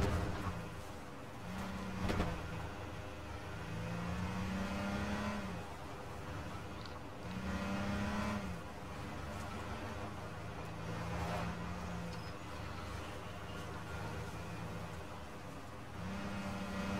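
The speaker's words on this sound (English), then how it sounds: "I heard that car creeping behind me" A car creeps up from behind, its engine a steady low hum with repeated swells as it nears, loud and close with no talking over it.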